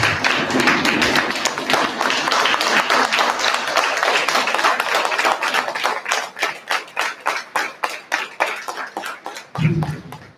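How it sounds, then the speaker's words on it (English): A room of people applauds a newly appointed college principal at his welcome, dense clapping that thins toward the end into scattered separate claps, with a brief low thump near the close. "Give him a round of applause."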